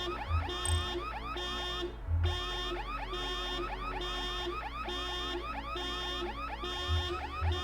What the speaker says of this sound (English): We can't turn the alarm off.